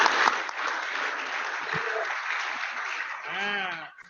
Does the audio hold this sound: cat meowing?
no